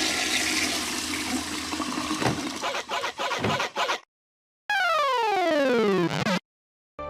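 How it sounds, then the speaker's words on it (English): A cartoon toilet flushes loudly while it is being wrecked, with clattering smashes and a gurgling rush of water, then a sweeping, descending swirl of flushing water after a brief silence. "Ralph wrecks the toilet."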